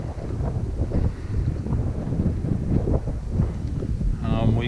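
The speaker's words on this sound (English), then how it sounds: "We got a pretty good south wind. I'm going to say 12 to 13 miles an hour, something like that, gusty." Gusty south wind of about 12 to 13 mph buffets the microphone on open ground in eastern South Dakota in November, a steady loud rumbling roar with surges, and a voice briefly comes in near the end.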